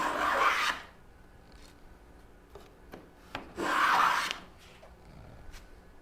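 Rasping strokes clean up the badly gouged edge of a handmade wooden moulding, two long loud rubbing passes with a few sharp scrapes and knocks between them, close and without talk.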